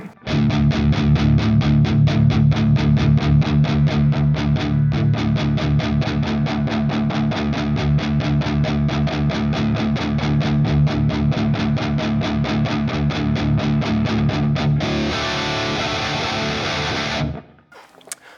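Electric guitar played through an ML Sound Lab Roots high-gain amp channel, a loud, distorted sustained riff with rapid repeated picking throughout, changing texture near the end before stopping abruptly.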